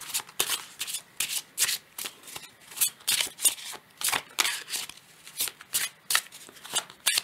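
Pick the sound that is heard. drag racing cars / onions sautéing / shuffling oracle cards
shuffling oracle cards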